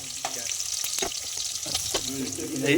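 Onions frying in a pan give a brief, close sizzle with a couple of stirring scrapes, swelling slightly louder at the end.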